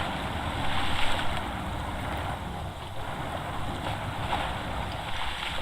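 A truck in the video game SnowRunner pushes through water, making a continuous broad splashing wash and rumble at a steady level from start to finish.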